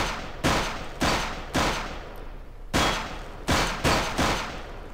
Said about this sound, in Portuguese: Pra que atirar tanto assim, Vaquita?